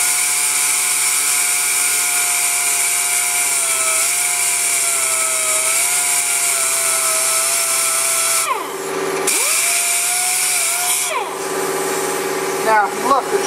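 Pneumatic orbital sander sanding foam, a loud continuous high whine with a steady pitch that dips briefly twice as the tool is loaded or lifted, close up, with a person talking over it.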